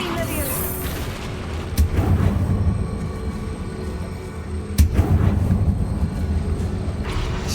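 Confringo fire-blast spell in Hogwarts Legacy: two heavy booming explosions a few seconds apart, each a sharp low-end burst that rumbles and fades, over constant game ambience.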